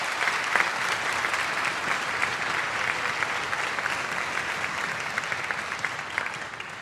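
A band camp concert audience gives a sustained round of applause in thanks for the week's extra help, with dense, steady clapping that holds at an even, fairly loud level throughout.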